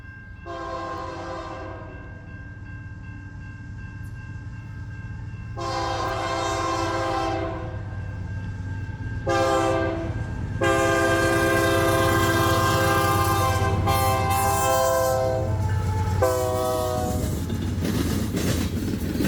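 A freight train rumbles past nearby as its horn blasts repeatedly in long and short bursts, the rolling noise building louder toward the end.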